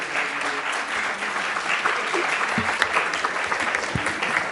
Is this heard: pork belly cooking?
no